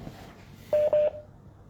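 Two short telephone dialing tones, evenly spaced beeps heard close and alone during a phone call, with a faint burst of noise before them.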